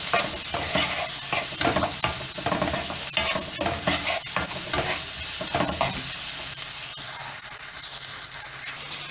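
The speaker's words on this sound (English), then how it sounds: "And now I'm going to stir this for some time." Spices fry and sizzle in a pan for a beef bhuna while a utensil stirs them in repeated scraping strokes, with a steady close hiss underneath and no voices.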